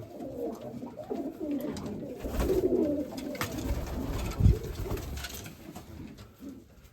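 A red female Mykolaiv pigeon in a Kamianske loft coos softly amid general loft noise, a close, low murmuring call with a sharper thump near the middle and no talk.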